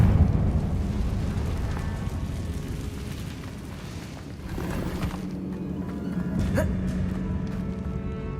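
A Confringo fire spell blasts in Hogwarts Legacy with a rumbling, booming burst midway through. A sharper crack follows shortly after, all over a low, continuous ambient rumble from the game.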